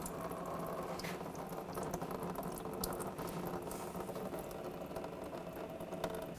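Transmission fluid draining from a loosened cooler line on a Volkswagen Tiguan, a faint, steady trickling patter running without a break, quiet and close, with no voices.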